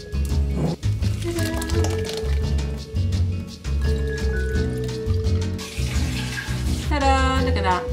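600 ml of water is poured into freshly squeezed orange and lemon juice with turmeric, a splashing pour running under loud, steady background music throughout.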